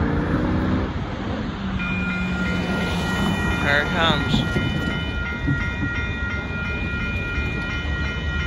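A northbound Union Pacific mixed freight train passes at Dittmar Road in Austin, Texas. It rumbles loudly up close with steady wheel noise, and a sustained horn blast sounds partway through.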